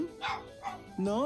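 A dog barks and yips in short bursts behind a voice during a Dragon Quest XI game session, mixed with melodic game music tones.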